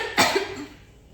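A single harsh cough from a woman suffering from tuberculosis, sharp and close, followed by a short throat rasp and quiet.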